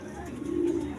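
A racing pigeon close by gives one soft, low coo that swells in the middle and holds briefly over a quiet background, with no talk.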